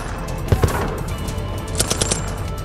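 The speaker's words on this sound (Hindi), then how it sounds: "अमेरिकी सैनिकों ने गोलियां दागकर दुश्मन से निपटने का अभ्यास किया" Gunfire from American soldiers firing during a joint military exercise: a few sharp shots near the start, then a looser scatter of quicker bursts later, over steady outdoor background noise, no talk.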